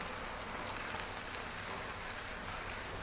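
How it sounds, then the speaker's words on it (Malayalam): Steady, soft rain falls continuously as an even, faint hiss with no other sounds. "നല്ല മഴ"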